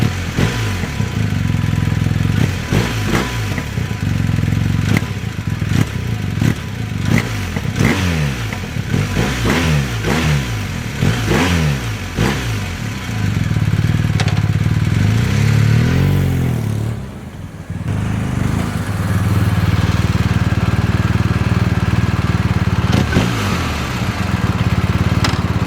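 A BMW R1250RT motorcycle engine revs up and down repeatedly in quick throttle blips, then holds steady, loud and close, with a brief dip before the engine note returns.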